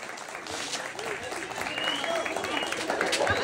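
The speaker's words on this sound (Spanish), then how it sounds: "con fuertes aplausos." Applause from a crowd at a 2014 San Sebastián performance, a steady wash of clapping with voices mixed in, moderately distant and swelling slightly toward the end.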